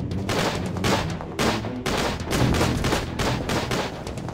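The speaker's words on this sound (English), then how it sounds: "So if I throw a grenade" Grenade blasts and gunfire in the Tiny Troopers Joint Ops video game, a burst of repeated explosive bangs and rattling shots at a loud level, with no voices.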